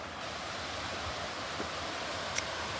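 Can-Umantad Falls waterfall in Candijay, Bohol, Philippines, a steady broadband rush of falling water filling the whole clip at an even, moderate level with no pauses.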